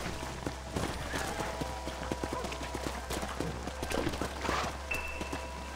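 Steady clip-clop of horse hooves at a trotting rhythm in the video game Red Dead Redemption, fairly close, over a low ambient hum with faint game sounds and brief voices.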